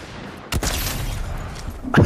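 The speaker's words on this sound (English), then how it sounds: "mind this prick still shooting at us" Enemy gunfire in an online shooter: a loud burst of shots at close range, followed by a sustained noisy rumble and another burst at the end.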